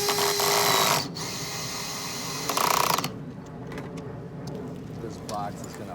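A power drill drives fine-thread screws into softwood in two short, loud whirring bursts separated by a quieter stretch of low mechanical noise, with a voice speaking nearby.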